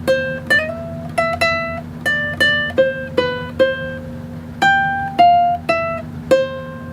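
Fingerstyle ukulele phrase, a run of about fifteen plucked notes in an uneven rhythm, each ringing briefly over a steady low hum, close and moderately loud with no voices.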